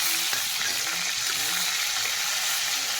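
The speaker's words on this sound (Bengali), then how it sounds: "এই যে এবার আমি টমেটোগুলো দিয়ে দিলাম।" Tomatoes hitting hot oil in a pan, a loud, dense and continuous sizzle with faint stirring sounds, close up.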